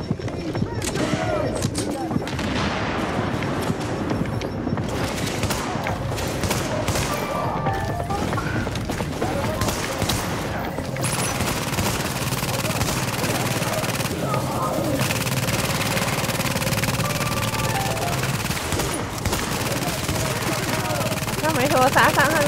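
Continuous machine-gun fire and chattering shots from an enemy gun platform in the shooter game The Division, loud and relentless, with thuds and impacts mixed in while players talk throughout.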